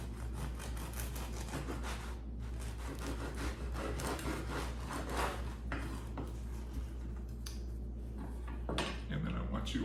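A knife saws back and forth through crusty Dutch oven bread, a steady scratchy crackling rasp up close, with faint low hum in the background.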